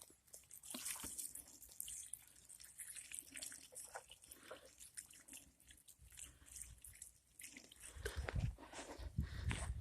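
Homemade compost tea splashes and drips onto garden plants outdoors, irregular close pattering and trickling that grows into a heavier pour toward the end.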